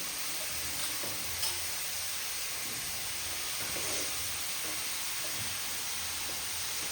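Pumpkin goes into a pan of roasted green chillies and fries with a steady, close sizzle and hiss, broken by a few soft stirring knocks and scrapes.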